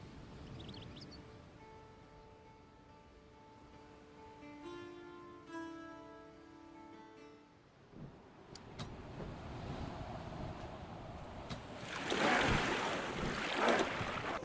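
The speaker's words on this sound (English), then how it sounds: "Alright, let's set sail." A ship sails over the waves in the game Expeditions: Viking, with soft tonal music giving way to rising rushing water and wind that swell loudest near the end.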